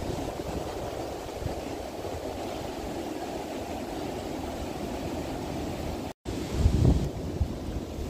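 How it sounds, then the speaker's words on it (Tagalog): Seaside waves and wind at a beach in Ireland in summer, a steady roar of surf with heavy wind buffeting the microphone throughout, broken by a brief dropout near the end and a low thump after it. "Tabing dagat."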